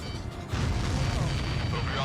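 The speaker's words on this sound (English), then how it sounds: "That's a confirmed direct hit by the missile." Missile explosions in the Ace Combat 7 video game, a heavy continuous rumbling boom that swells after a short lead-in, loud and dense, with game radio chatter layered over it.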